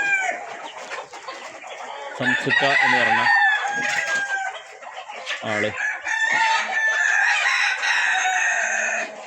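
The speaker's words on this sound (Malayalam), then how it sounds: "കൂടുതലും പൂവൻ കോഴികളാണ് അദ്ദേഹം നിർത്തിയിട്ടുള്ളത്" Roosters crow repeatedly with clucking hens around them on a poultry farm at Chiramangalam, Parappanangadi, where ducks are also kept. The calls are loud and near and overlap one another, with a brief bit of talk among them.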